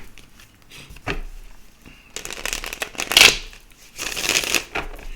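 Tarot cards being shuffled by hand in bursts of crisp riffling and flicking, with a quiet pause between each flurry, close and clear with no talk.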